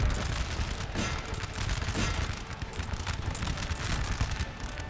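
Napoleon Total War battle with enemy cannons firing, a dense rolling barrage of overlapping booms and musket-like crackles, continuous and loud.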